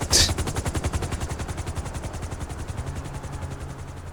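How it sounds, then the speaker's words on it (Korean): A helicopter's rapid rotor thump runs continuously in GTA 5 while a burst of gunfire cracks at the start, the rotor chop staying loud and steady throughout. "방금 헬기는 거의 브루스 윌리스가 탔네요"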